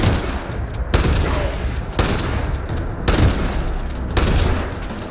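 Rapid gunfire in a third-person shooter video game, sustained bursts of shots with a few louder booms about once a second, filling the whole stretch with dense battle noise.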